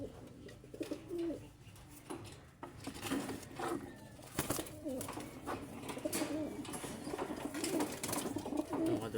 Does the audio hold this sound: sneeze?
no